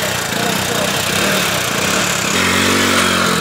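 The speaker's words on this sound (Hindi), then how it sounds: "और इतने पानी में एक भाई साहब निकाले मोटरसाइकिल" A Bajaj Discover motorcycle engine running while the bike is ridden through deep flood water, a loud, continuous buzzing drone close by with a steadier, rougher tone toward the end.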